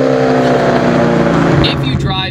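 Engine of a 2004 Ford Mustang Mach 1 with JLT intake, Off-Road X pipe and Borla Stinger cat-back exhaust rumbles loudly nearby, holding a deep steady drone before shifting near the end, with a voice partly over it.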